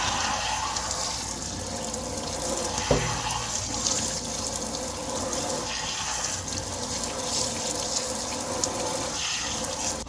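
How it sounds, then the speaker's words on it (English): Tap water runs steadily into a sink as a wig is rinsed, a loud, even rushing gush that carries on without a break. "we're going to rinse."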